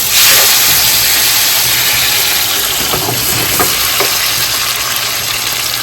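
Diced tomatoes added to a hot pan of spiced mac and cheese, loud steady hissing sizzle with a few soft clicks and spatters.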